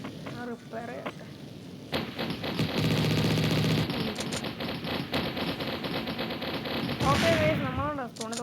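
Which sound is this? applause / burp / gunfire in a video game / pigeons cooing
gunfire in a video game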